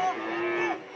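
A Madura crossbreed cow gives a single short, close moo, loud and clear with no talking over it.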